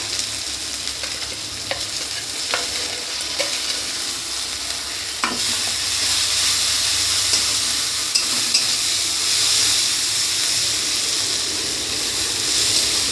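Chili paste frying in a pan for an egg curry, a continuous loud sizzle with occasional scraping clicks of a spatula as it is stirred, growing denser partway through.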